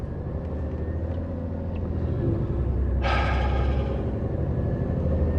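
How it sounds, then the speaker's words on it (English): Steady low road-traffic rumble from inside a Ford truck near junction 25 of the M62 heading into Huddersfield, continuous and even, swelling slightly midway with a brief brighter hiss as something passes, no voices. "Just traffic, it's always the same here"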